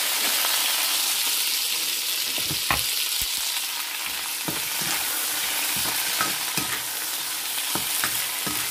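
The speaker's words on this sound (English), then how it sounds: "We will sauté this good for 3 minutes until all the spices are combined and infused all together wonderfully" Beef sizzles loudly in a pan with onion, ginger and garlic, a dense continuous frying hiss with occasional scrapes and knocks of a stirring utensil, close up.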